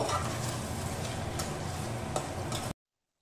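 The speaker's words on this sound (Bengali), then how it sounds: "এবার আমি এগুলোকে এর মধ্যে অ্যাড করে দিচ্ছি। দিয়ে আবার আমি একটু নেড়ে নেব।" Sautéed bell peppers are stirred in a pan for a vegetarian paneer dish, giving a steady, close sizzle with soft scraping and a few sharp utensil ticks, then the sound cuts off abruptly.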